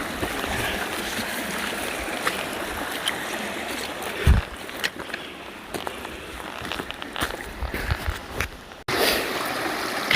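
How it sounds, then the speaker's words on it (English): A small creek on the Pacific Crest Trail flows in a steady broadband wash of trickling water, close by, broken by a few knocks and soft footsteps-like thuds near the water. "you gotta cross the little river like a million times"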